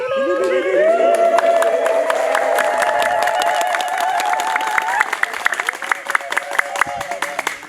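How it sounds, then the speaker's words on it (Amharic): A congregation at an Ethiopian church Easter-season gathering claps hands together for several seconds, steady and dense at first and then thinning into scattered claps, while a voice sings or calls out over it. "እጅ ነው የሰማነው፣ እልልታ አልሰማንም።"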